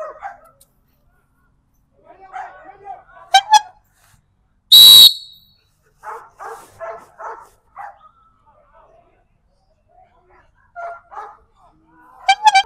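A Belgian Shepherd protection dog at French ring training barks in short, sharp bursts, broken by one loud shrill whistle, with people talking nearby between the barks.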